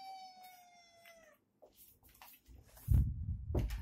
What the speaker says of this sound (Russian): Кот пришел.